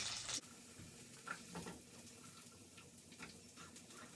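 Peppers go into a pan to fry, starting with a short sharp burst, then a quiet, low sizzle with a few soft stirring scrapes and clinks.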